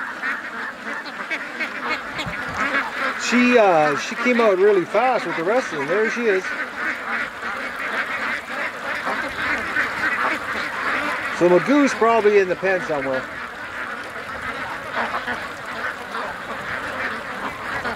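A large flock of over a thousand ducks quacks and honks after rushing out of their pen, a continuous clamor with bursts of nearby quacks, while someone talks over it.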